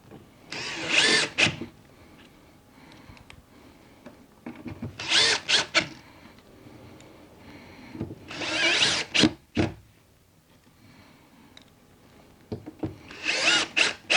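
A power drill drives screws to reattach a standoff bracket to an RV slide room, four separate bursts of high-pitched whirring a few seconds apart, close and fairly loud, with quiet pauses between.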